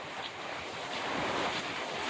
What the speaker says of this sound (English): whoa, that's a wind gust